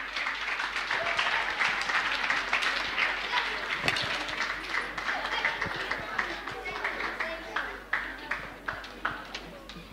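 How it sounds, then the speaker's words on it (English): Audience applause at a school science fair, a dense sustained clapping that thins toward the end into a few separate, distinct claps, with voices mixed in underneath. "let's give fifth grader another round of applause for their creativity"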